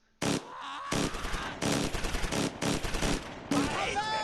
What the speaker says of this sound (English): Let's open up on the infantry here with both machine guns.